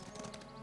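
Quick clip-clopping of horse hooves at a fast pace in the video game Pathfinder: Wrath of the Righteous, a steady close rhythm over constant game ambience.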